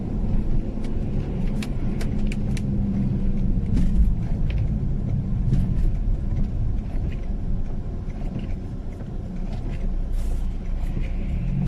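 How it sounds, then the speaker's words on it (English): A car passes on a wet road, heard from inside a test-drive vehicle on Uniroyal Rainsport 5 tyres: a steady loud road rumble and engine drone, with tyre hiss throughout and no talk. "I currently have a vehicle behind me, so I'm going to try and get him to pass in a moment"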